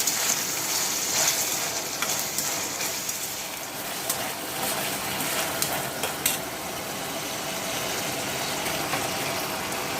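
Tomatoes and onions frying in a pan as the base for pasta, producing a steady hissing sizzle with occasional light clatter, close and fairly loud, with no voices.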